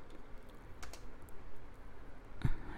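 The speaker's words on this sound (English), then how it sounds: "Like I'm just typing now, resistor." Keys on a computer keyboard tapped in short, quiet clicks, with one sharper key press near the end and no talking over it.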